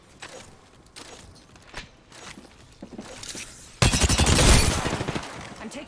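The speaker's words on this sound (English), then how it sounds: "I'm taking shots" Video game gunfire in a battle royale match: scattered single shots and footsteps early on, then a sudden dense burst of rapid automatic fire that swells loud and tapers off, with no talk heard over it.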